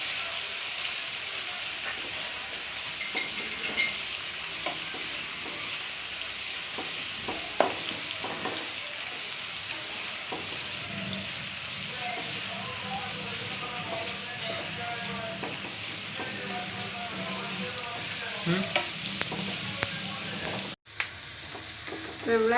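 Sliced onions sauté for chicken roast in oil in a pan, a steady close sizzle and crackle throughout with occasional spatula scrapes and taps, continuous and even in loudness.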